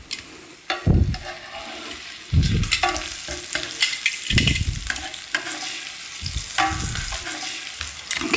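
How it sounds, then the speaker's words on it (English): Pineapple slices for a teriyaki veggie burger sizzle in a hot pan, with a steady frying hiss and several louder scraping, clattering bursts as the pieces are flipped. "Give our pineapple slices a flip."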